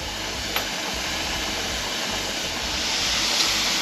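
Steady, forceful hiss of steam jetting from a pressure canner vent while canning chicken, continuous and loud with a broad airy roar, no voices.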